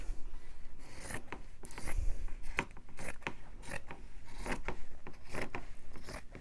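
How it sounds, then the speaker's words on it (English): Scissors snip through paper being trimmed for a handmade journal cover, a series of short crisp cuts and rustles at close range, with irregular pauses between strokes. "So I'm going to cut it right there."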